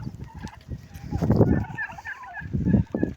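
Farmyard turkeys gobble in bursts, two loud rattling gobbles close by with quieter bird calls between them.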